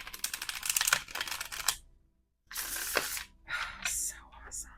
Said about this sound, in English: So I'm just like in love with how gorgeous they shuffle.